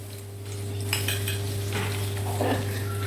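Ghee heats in an uruli pan on the stove while a metal spoon clinks and scrapes against the vessel in short bursts over a steady low hum. No talking.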